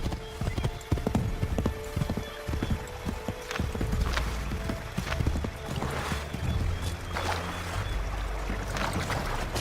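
Horse hooves clip-clop in a fast, irregular gallop in Assassin's Creed III, loud and close, with occasional snorting and background game ambience.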